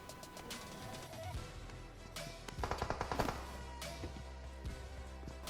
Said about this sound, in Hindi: सामने से आने लगी गन फायरिंग की साउंड